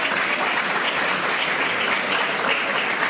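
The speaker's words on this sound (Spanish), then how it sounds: "es para el Guillo el aplauso" Audience applauding during a lecture at UNACH university in Riobamba, Ecuador, on AI in politics: dense, steady clapping from a roomful of people filling all three seconds, with no voices.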